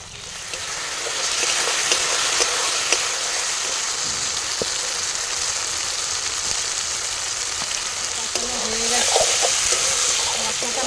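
Cabbage frying in a pan with garlic and spices, a loud, steady sizzle running the whole length with occasional stirring clicks, close up and continuous, with no talk over it.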